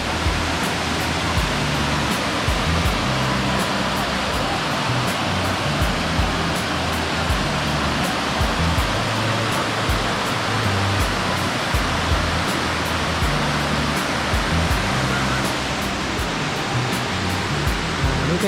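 Sungai Pandan waterfall pouring as a steady, loud, broadband roar of falling water, continuous and close throughout with no pauses or talk.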